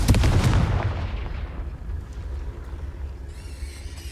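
The Confringo blasting spell is cast in Hogwarts Legacy: a loud, close explosive burst at the start that fades into a long rumbling decay, with a faint high shimmer near the end.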